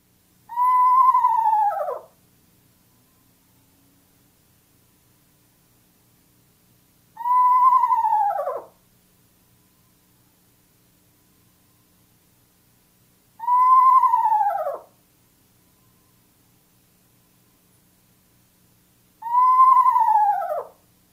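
Four descending whinnying screech owl calls, each about two seconds long, repeat at even intervals with silence between them, clear and fairly close.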